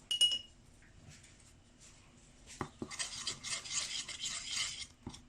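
Ingredients are stirred with olive oil in a bowl: a few faint clinks, a couple of sharp taps, then close, soft scraping and swishing strokes that run for a couple of seconds.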